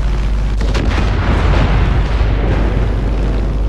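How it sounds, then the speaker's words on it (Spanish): A heavy explosion from the Far Cry 5 game roars as a loud, dense, sustained rumble with no clear onset, filling the whole stretch without speech. "esa explosión exactamente no sé de qué ha sido"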